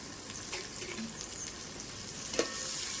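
Green chillies and curry leaves frying in oil at a home family gathering, giving a steady, fairly quiet sizzle with a few soft stirring clicks and one brief sharper crackle near the end, no voices.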